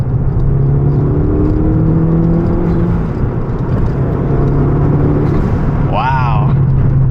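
A Fiat 500 Abarth with a big turbo pulls under partial throttle in third gear, its engine drone rising steadily and loudly from the cabin, with a brief whistly chirp late in the clip.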